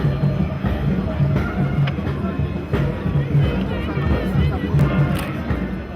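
A large, enthusiastic crowd gathers outdoors to welcome a president in southwestern Burkina Faso, a steady babble of many voices with scattered shouts and movement, continuous and fairly close throughout.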